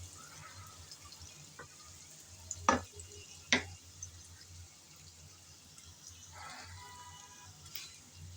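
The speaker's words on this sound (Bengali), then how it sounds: "হালকা করে ভেজে নিলাম পেঁয়াজ" Onions fry lightly in oil left from frying prawns, with a quiet steady sizzle behind two sharp clinks of a utensil and a few softer scrapes.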